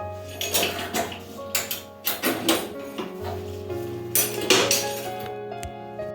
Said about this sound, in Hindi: ढक्कन बंद कर दे रही हूँ।